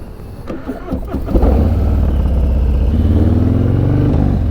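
A motorcycle engine with a Bassani Road Rage aftermarket exhaust fires up and settles into a loud, deep, rumbling idle with throaty exhaust, close by and steady.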